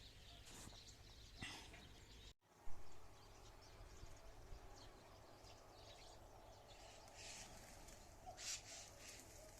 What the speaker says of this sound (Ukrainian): Горобці кричать, не знаю, може буде погода мінятися.